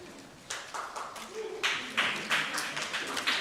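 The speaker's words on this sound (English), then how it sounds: "I've never been applauded before." Scattered applause from a panel audience at the Asia TV Forum & Market 2018 builds into brisk clapping about halfway through, following a brief stretch of speech.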